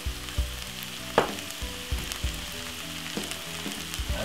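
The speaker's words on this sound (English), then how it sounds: "So we're gonna saute this up for about 3 to 4 minutes on a medium sized heat." King prawns sauté in a hot pan over medium heat, a steady close sizzle broken by repeated knocks and scrapes of stirring against the pan, with no talking.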